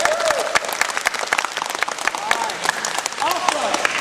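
Campers at a summer camp gathering clap loudly for their coaches, dense applause with scattered whoops and cheers from a crowd, sustained throughout.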